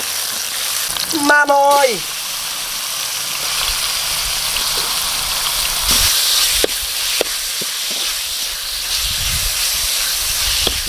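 Tomatoes, onions and garlic sizzle in a hot pan, a steady frying hiss with scattered pops and stirring clatter, while a voice speaks briefly near the start.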